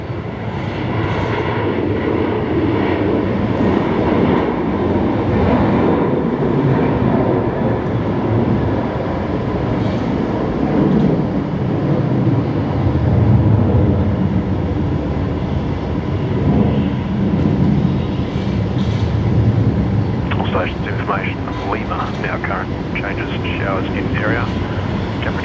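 A Qantas Airbus A330 lands on runway 19 left at Brisbane Airport, its engines giving a steady, loud rumbling roar, with someone talking throughout and brief radio chatter toward the end.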